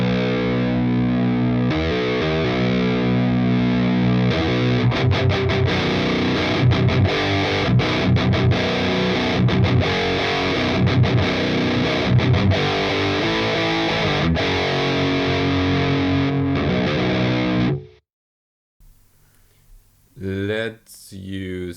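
Electric guitar played through an Audiority Solidus VS8100 Marshall Valvestate-style amp plugin with a TS808 Bright distortion pedal, loud sustained overdriven riffs and chords for about eighteen seconds, then a brief pause before a few more short notes.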